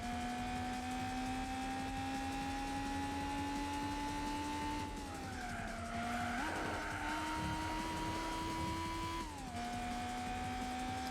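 A race car in Gran Turismo 4 on PS2 brakes too late and skids, its tires squealing loudly over a steady engine drone that shifts pitch as the car slows, with no voices.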